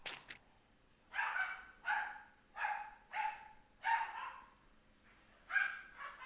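A dog out on a walk lets out a series of about seven sharp barks in an uneven rhythm, each a short loud burst with quiet gaps between, heard fairly close against near silence.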